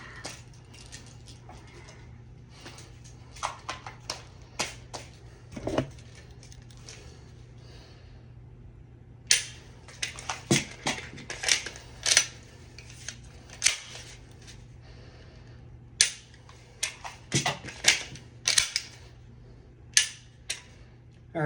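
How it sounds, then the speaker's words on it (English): A Glock 17L pistol is dry fired indoors, with sharp, isolated mechanical clicks of the trigger and slide spread unevenly over the stretch, interleaved with quiet handling noise and fairly close by. "This was my first time dry firing post-surgery."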